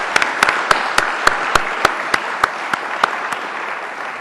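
A conference plenary audience applauds in a dense, steady roar of clapping, with a few sharp, louder claps standing out in a regular rhythm near the microphone.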